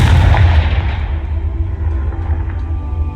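A Confringo blasting spell from Hogwarts Legacy detonates in a loud, booming burst, then a rumbling roll settles off over a few seconds, with no voices.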